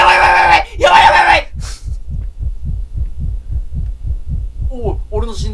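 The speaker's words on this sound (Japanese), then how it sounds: "俺の心臓の音" In the horror video game Layers of Fear, a steady thumping heartbeat sound effect pulses about twice per second, low and prominent. It follows a loud screaming voice at the start, and a voice returns at the end.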